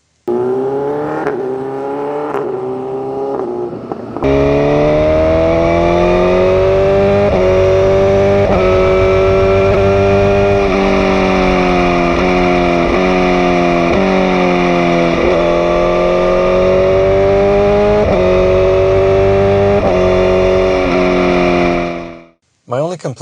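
A BMW S1000RR sport motorcycle with an aftermarket exhaust revs hard and climbs through the gears, its loud, raspy howl rising in pitch and dipping at each shift before cutting off near the end.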